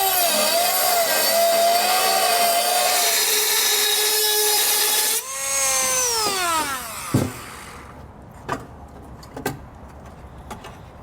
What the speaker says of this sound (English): I'm going to take a Dremel tool and I'm going to remove that material